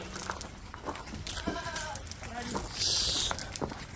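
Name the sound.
ewes (sheep) bleating during weaning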